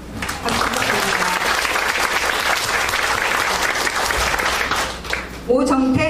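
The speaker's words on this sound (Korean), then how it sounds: "큰 박수 부탁드립니다" An audience at a ceremony proclaiming a humanities city applauds steadily in a full, even burst of clapping, which drops off near the end as a voice begins speaking.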